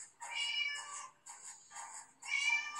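Cat meowing in the Scary Teacher video game: three drawn-out, whiny meows in a row with short gaps between them, fairly loud and close, with no talking over them.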